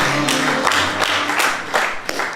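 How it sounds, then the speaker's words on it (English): Applause from an improv comedy audience for a player, steady clapping with a few louder bursts, close and filling the room without talk. "A big round of applause for Jimmy as he leads the room"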